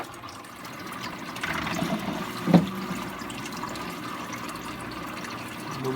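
Water filling a DIY hang-on-back aquarium filter makes a steady, moderate rushing wash with a brief louder gurgle partway through, close by and without talk.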